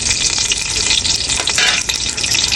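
Loud, constant sizzle of pulao frying in a pot while it is stirred, a dense crackling hiss close up with scraping movement and no voices.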